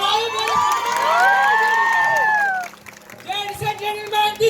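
A crowd at a family-meet stage show at River Rock Resort cheers, whoops and shouts for a dance performance, with children's voices mixed in. The burst rings loud for about three seconds, then drops and flares up again in scattered shouts.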